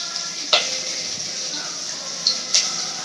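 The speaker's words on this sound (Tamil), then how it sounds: "இது எல்லாமே வதங்கட்டும்" Ingredients sautéing in a pan for a fish curry, a steady hiss with a few sharp utensil clinks against the pan, close up and without talk.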